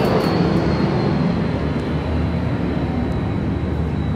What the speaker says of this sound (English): And that's a plane flying.